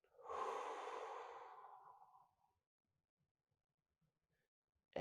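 A person draws a long, audible breath lasting about two seconds during a calf stretch, the sound loud and close, then fades into near silence with faint small noises.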